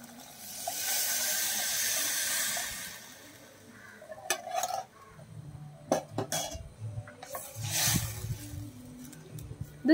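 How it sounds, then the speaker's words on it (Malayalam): Ground coconut paste poured into softened cooked tomatoes in a pan for tomato pulisseri, first a long steady hiss, then scattered stirring clatters and sizzling bursts close by, with no talk. "ഇനി അരപ്പ് നമുക്ക് അതിലേക്ക് ഒഴിച്ചു കൊടുക്കാം."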